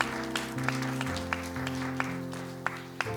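A church congregation at a Friday worship service claps under sustained keyboard chords, with scattered sharper claps standing out.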